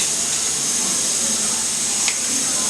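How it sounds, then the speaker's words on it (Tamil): Homemade coconut oil poured into a frying pan heated on a gas stove gives a steady, close hiss and faint sizzle throughout, with no talking. "இப்போ வந்து எண்ணெய் விடுறேன்"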